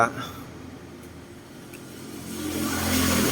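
A Honda Wave 125i motorcycle engine runs steadily at idle during idle-speed adjustment, a low, even hum that rises slightly toward the end, with someone talking over it.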